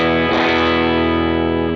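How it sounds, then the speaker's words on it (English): A REVV D20/D25 tube amp turned all the way up delivers a loud, saturated high-gain electric guitar chord, struck once and sustained as a thick distorted drone for well over a second before cutting off. "So if we turn the amp all the way up, we'll show you how much gain we can get out of it."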